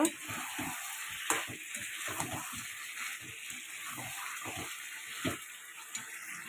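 Chicken and potatoes frying in a pan as they are stirred, with soft sizzling and a series of scraping, clattering stirs, close and quiet with a faint steady hiss underneath.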